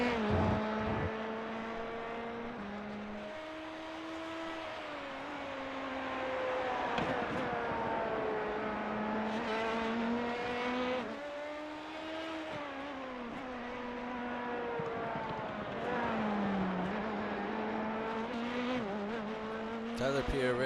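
An LMP2/GTE race car in iRacing at Imola runs a hot lap, its engine rising and dropping through gear changes with a steady droning pitch, moderately loud, under a commentator's talk.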